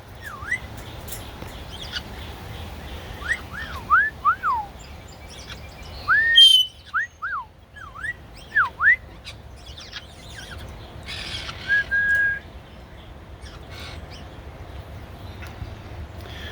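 A pet bird whistles repeatedly inside a plastic container, giving short rising and falling chirps in scattered bursts with quiet gaps, fairly close and somewhat muffled.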